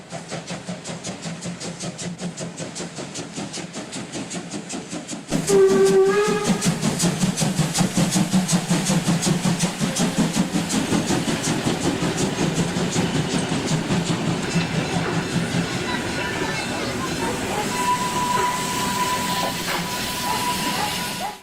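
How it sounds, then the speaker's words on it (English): A train rushes through a level crossing with a loud, sustained roar, hiss and rolling rail clatter, kicking in abruptly and continuing close by, joined late by a steady horn-like tone. "A train slams into a tractor trailer carrying a wind turbine blade because it couldn't stop in time."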